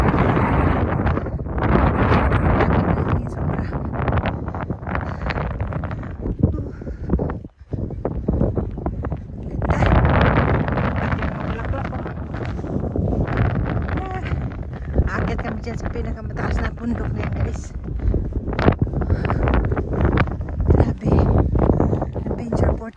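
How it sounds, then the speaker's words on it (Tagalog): Strong wind roars across the microphone on a mountain hike up Volandstind in Flakstad, a loud broadband buffeting that keeps going for the whole stretch with only brief lulls. "Isang hangin sobra."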